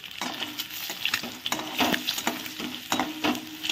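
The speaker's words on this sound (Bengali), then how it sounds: "ডিমগুলো নেড়ে ছেড়ে ভেজে নিচ্ছি।" Close sizzling of eggs frying in a pan, broken by repeated scrapes and taps of a spatula stirring every half second or so.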